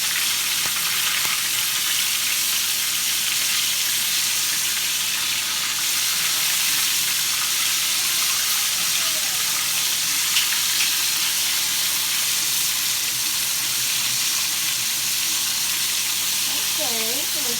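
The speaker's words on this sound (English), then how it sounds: "That's what make the oil splash, the grease splash on you." Hot Cheetos-coated chicken wings frying in oil, a continuous dense sizzle and crackle heard close and steady for the whole stretch, with faint background sounds.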